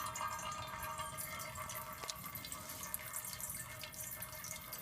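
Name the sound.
water dripping from LifeStraw Mission purifier valve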